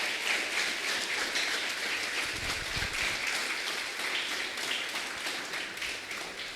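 A church congregation applauds steadily, a dense, even wash of many hands clapping at moderate distance throughout, with no talk over it.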